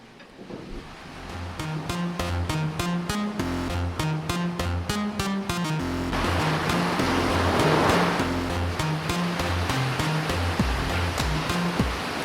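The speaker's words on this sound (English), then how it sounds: "The water wheel is the overshoot type." An overshot water wheel turns at a water mill, with a loud, continuous rush of falling water and a repeating rhythmic knocking and clunking from the turning wheel and its gearing.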